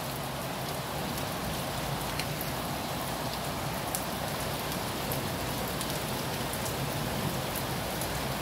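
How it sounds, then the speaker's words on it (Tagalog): Steady rain falls in Baguio, a dense, even hiss of drops on surfaces that continues unbroken for the whole stretch, fairly close and with no voices over it. "It is raining in Baguio."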